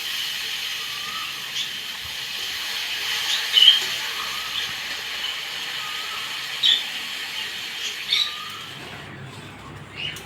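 Liquid poured into hot fried ground cumin and ginger in a pot on a clay stove, giving a steady, close hissing sizzle with a few brief sharper crackles.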